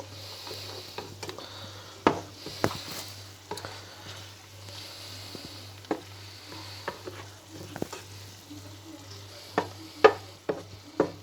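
Chicken and creamy rice cook together in a skillet, a soft low sizzle beneath intermittent sharp scrapes and clinks of a utensil stirring against the pan, with no talking.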